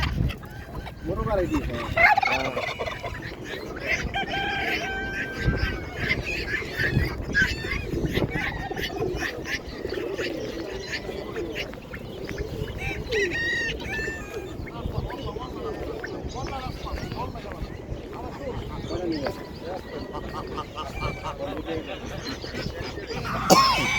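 Fowl and ducks at a Kuwait pigeon and poultry market, clucking and squawking steadily throughout amid a busy crowd, with people talking nearby over the continuous animal noise.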